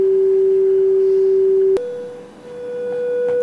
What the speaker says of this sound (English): now we have two sine waves running in from two Doepfer standard VCOs. They're both running at about 500 hertz.